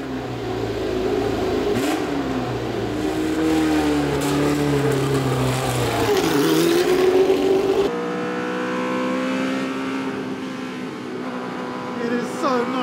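A high-pitched racing engine whines and revs, rising and falling through gear changes, loud and close, with a sudden shift in tone partway through: the 1982 Williams FW08 Formula One car, a single-seater.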